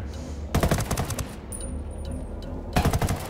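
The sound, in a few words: gunfire in video game Ghost Recon Wildlands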